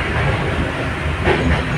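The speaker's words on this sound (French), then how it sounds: "On est totalement monté dans le mauvais train." An automatic metro train runs steadily, a loud continuous rumble of wheels on rails with a brief screech partway through, no voices over it.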